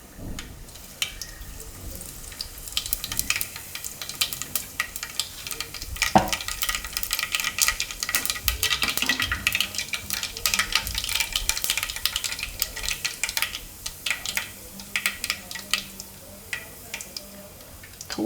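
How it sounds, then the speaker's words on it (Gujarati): Mustard seeds and cumin sizzle in hot oil with a steady hiss. Rapid, uneven crackles and pops run through it, close and moderately loud, with occasional utensil taps. "તેલમાં આપણે નાખીશું થોડીક રાઈ અને જીરું"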